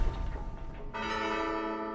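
Bell puzzle chime from Hollow Knight: Silksong, a rich ringing bell tone struck loudly near the end of a faint earlier tone, then sustaining with a long shimmering decay and no talk.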